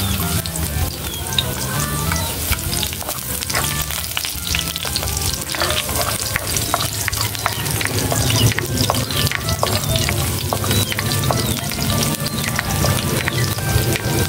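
Garlic drops into hot cooking oil for a spicy chicken dish, giving a loud, dense, continuous crackling sizzle up close, steady throughout with faint stirring underneath.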